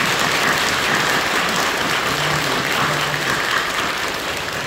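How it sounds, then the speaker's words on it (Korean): Loud, dense applause from a church congregation during a thanksgiving worship service, a sustained roar of many hands clapping close and unbroken, with no talking heard. "하나님께 감사 영광의 박수를 드립니다."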